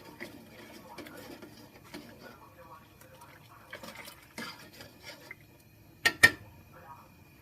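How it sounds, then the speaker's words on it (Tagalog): Dinuguan being stirred in a cooking pot, with soft scraping and sloshing through the clip and a couple of sharper clinks of utensil on pot near the end. "Haluin lang natin."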